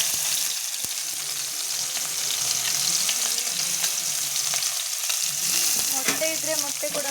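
Chopped tomato, coriander and chilli fry in hot oil for Maggi noodles, giving a steady close sizzle with occasional stirring clinks and no talking.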